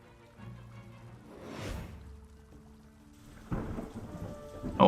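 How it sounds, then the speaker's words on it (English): In the Banner of the Maid game, thunder rumbles and cracks during a sudden heavy rainstorm. A deep roll builds and fades, then a second crash breaks out over a steady hiss of rain, with no voices. "it started raining so suddenly"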